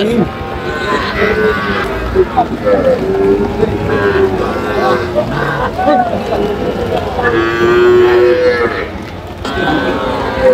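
Cattle, young bull calves, moo repeatedly, long drawn-out lowing calls at close range, with background voices and general farmyard noise at a farm in Natore.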